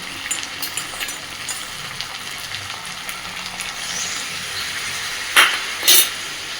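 Water poured into a pan of chicken kosha curry with partly cooked potatoes, steady frying sizzle and hiss, followed near the end by two louder bursts of spitting steam.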